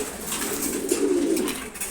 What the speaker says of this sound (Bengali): এ হচ্ছে সহ্য করা নর ওর মাদিটাই হচ্ছে এটা ওর জোড়া